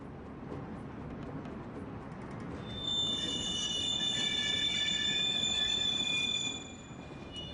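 Freight wagons rumble along steadily through the Sibelin marshalling yard, and midway a high metallic wheel squeal rises over the rolling noise for a few seconds before fading back.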